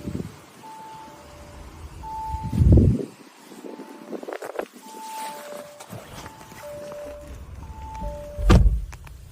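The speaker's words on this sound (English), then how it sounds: "As we approach the boot, we can see that it's electric." Electric powered boot on a petrol, automatic car opening, with alternating warning beeps repeating throughout, a motor hum, and a couple of louder thunks from the lid, heard close by.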